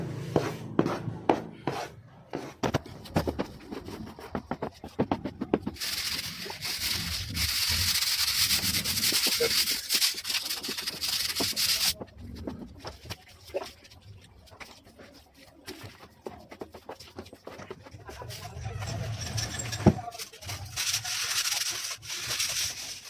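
A steel trowel spreads skim coat putty mixed with cement across a wall in long, gritty scraping strokes, close and continuous, pausing briefly between passes.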